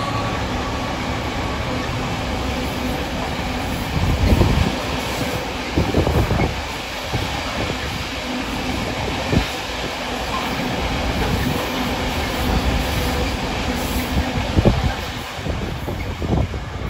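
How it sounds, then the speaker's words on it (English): An engineer's train passes Alfreton on a UK freight line, giving a steady, loud rolling roar for the whole stretch. Repeated thumps of wheels over rail joints break through the roar, and there is no talking. "That's either a really early running or really late running engineer's train from somewhere"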